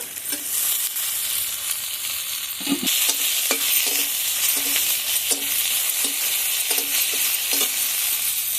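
Cardamom, cinnamon and bay leaf frying in oil for a cauliflower, egg and potato curry, an even hissing sizzle with a regular series of light stirring taps, close up and without voices.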